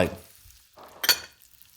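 Yellow onion and garlic fry in a pot, giving short bursts of sizzling and a quick stir, brief and fairly close.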